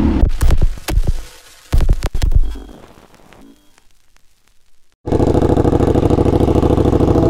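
Kawasaki ZH2 supercharged motorcycle engine roaring loudly and steadily in the last two seconds, after bursts of wind-buffeted noise and a quieter stretch.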